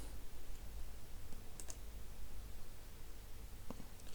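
A computer mouse clicking an item in a web browser gives a few sharp, isolated clicks, close and quiet over a steady background hiss.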